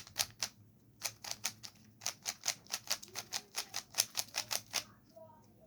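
A Rubik's cube is turned rapidly, producing a string of about twenty crisp plastic clacks in a quick, fairly even rhythm, close and distinct before stopping.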